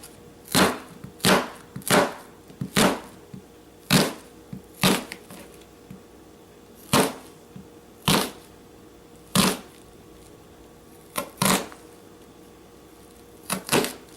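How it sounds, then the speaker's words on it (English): A knife chops through a beet on a cutting board in a series of sharp, separate thunks, irregular and close, some coming in quick pairs, with no talking. "I partly like to cut the beet last because it does make kind of a mess more than the other things."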